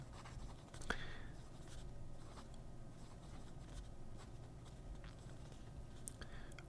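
A Magna Carta Urban Crimsonite fude pen scratches faintly across paper in soft, continuous strokes, heard close up and quiet.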